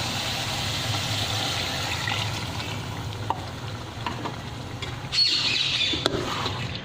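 Water poured into a pan of sizzling minced meat and potatoes with spices in oil, a loud steady frying hiss with a brief surge of bubbling and stirring near the end, close and without speech.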